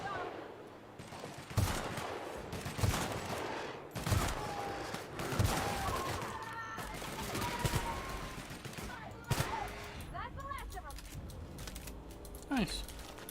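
A gun tried out in The Outer Worlds, with sharp separate shots and short bursts spread through the clip over a quiet game background, each report a clear crack.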